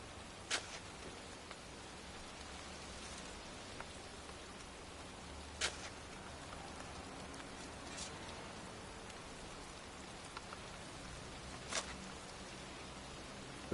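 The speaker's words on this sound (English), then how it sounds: "It's cold. It's raining." Quiet, steady rain falls in the video game Heavy Rain, a soft even hiss of drops on a surface with a few faint taps, heard alone.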